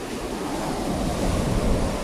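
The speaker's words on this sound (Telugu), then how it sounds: "ముందుకి అలలు వస్తుంది కదా" Sea waves wash onto Pakala beach in a steady broadband roar with wind noise across the microphone, loud and close, with no talking.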